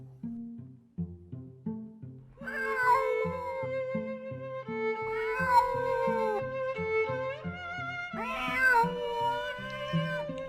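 A kitten meows repeatedly in long, plaintive cries, close and clear, over a steady musical accompaniment that runs underneath throughout.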